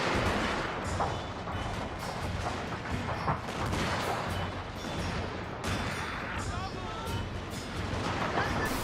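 Carbine cavalry in a Shogun 2 battle fire crackling volleys of shots, dense and continuous amid general battle noise, while someone talks over the gunfire.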